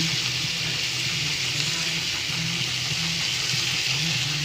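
Shrimp frying in a pan with young jackfruit, salt and turmeric makes a constant, loud, dense sizzle that hisses evenly close by, with a faint low rumble underneath and no voices.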